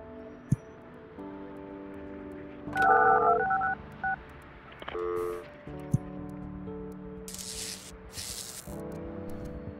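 Telephone dialing tones in the office-building game Project Highrise, a short run of quick touch-tone beeps followed by further electronic phone tones and clicks, fairly quiet with no talking over them.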